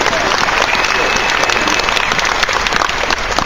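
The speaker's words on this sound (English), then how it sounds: "These guys are brave and they deserve a round of applause" A convention panel audience at Dragon Con claps loudly and continuously, a dense crowd applause that fills the whole moment with no break.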